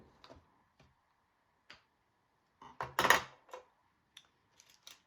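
Paper being snipped with scissors while assembling a handmade welcome gift box: a few sparse, faint clicks and then a short cluster of crisper cuts near the middle, with quiet gaps between.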